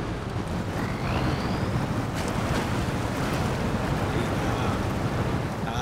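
An off-road truck in SnowRunner wading through deep water gives a steady, loud rush of churning water and engine noise, like surf and wind, throughout.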